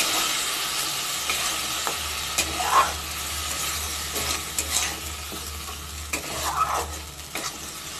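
Masala with poppy seed and cashew paste stir-fried in a pan: a steady close sizzle with repeated scraping strokes of a spatula, irregular and moderately loud, with no voices.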